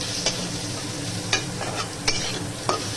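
Vegetables softening in a pan over a lowered gas flame, a continuous close sizzle broken by several sharp scrapes of stirring at irregular intervals, no voices.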